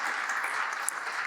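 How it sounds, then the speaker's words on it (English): Audience applause at a civic ceremony, a dense steady patter of many hands clapping throughout, fairly distant and even, with no voices over it. "let's give him a round of applause"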